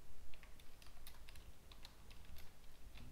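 Fast, irregular keystroke clicks on a computer keyboard during coding work, quiet and close over a low background hum, with no voices.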